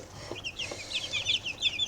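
A rooster clucks and squawks in short, agitated bursts while being grabbed and handled, close and loud, repeating several times with soft handling noise underneath and no speech.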